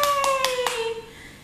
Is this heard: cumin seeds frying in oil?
no